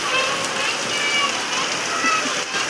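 Rain pouring down in a loud, steady wash of hiss and splatter that stays close and constant, with faint voices talking underneath.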